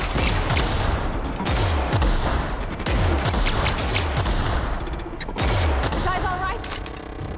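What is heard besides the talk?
gunfire from the player's gun in the video game The Outer Worlds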